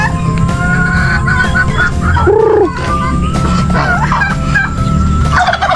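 Chickens, turkeys and ducks waiting to be fed in a backyard pen, with a loud turkey gobble rising above steady clucking and mixed fowl calls close by.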